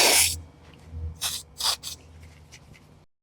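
A spray bottle mists liquid onto a wooden bath tray made from scrap wood, giving a sharp hiss at the start and then a few quick short spritzes close by.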